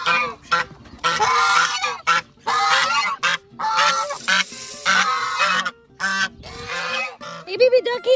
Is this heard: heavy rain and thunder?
no